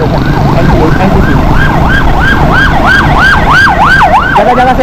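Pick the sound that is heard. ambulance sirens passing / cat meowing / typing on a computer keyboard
ambulance sirens passing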